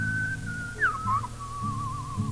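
A pet parrot whistles a clear sliding tone, holding a long note, then quickly warbling up and down before settling again, moderately close over a low background hum.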